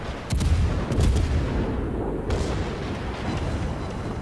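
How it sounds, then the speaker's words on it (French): Video-game battleship guns, the biggest naval cannons, fire in deep, booming blasts, a couple of big thuds early on followed by a rumbling roll of further shots, with no voices. "C'est les plus gros canons."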